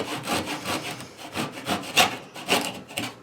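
A hand saw cuts slowly through a pinewood derby car wood block, giving a close, rhythmic series of rasping back-and-forth strokes about two per second.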